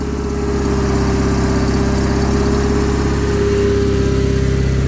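A John Deere 210 lawn tractor engine, just jump-started, idles at a raised throttle with a steady, close, rumbling putter and an even pulsing beat throughout.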